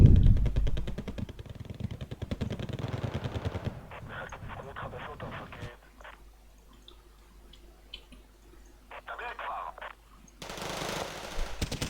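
Strategy video game battle with artillery and gunfire: rapid machine-gun bursts and clattering shots, dense at first, then sparser sharp volleys over a quieter background.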